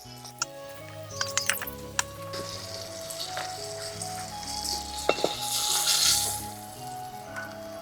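Fish pieces fry in hot oil in a pan, a steady sizzle with scattered ticks and stirring clicks that swells louder toward the end, close by with no talk.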